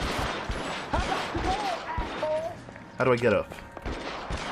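Gunfire crackles in the L.A. Noire video game, brief scattered shots and bursts under someone talking, with one louder burst near the middle.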